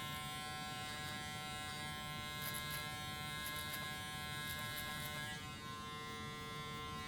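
Electric beard trimmer buzzing steadily at close range, a constant high motor hum with faint shifts in tone as it cuts, no talking.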